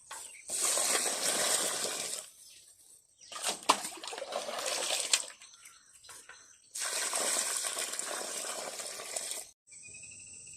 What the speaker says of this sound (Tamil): குழி வெட்டி தண்ணி ஊற்றி மண்ணை வந்து ஊற வச்சுக்க போகிறோம்